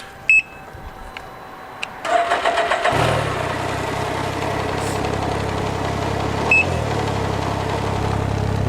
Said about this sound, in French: le beau petit son de cacane qui sort du filtre à air, on va vous le montrer.